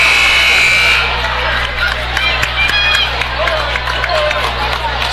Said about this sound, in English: the Farmington crowd yells at the referees